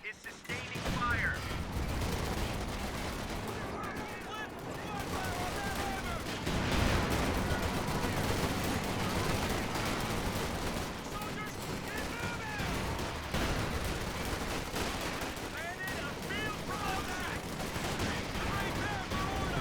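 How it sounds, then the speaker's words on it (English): Battle gunfire from the video game Company of Heroes 2: constant rattling small-arms and machine-gun fire with occasional heavier thumps, moderately faint, mixed with game voices and someone talking. "One of our fighting positions is sustaining fire."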